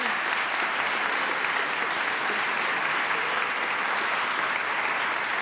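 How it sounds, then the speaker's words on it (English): Sustained applause from a large audience at a graduation award ceremony fills the space, a dense, even wash of clapping that holds steady from start to finish. "One more round of applause for all of our award winners."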